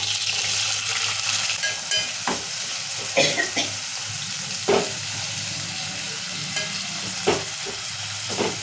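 Onions and green chilies fry steadily in a pan, a continuous sizzle and hiss broken by a few sharp stirring clacks, close and fairly loud with no talking.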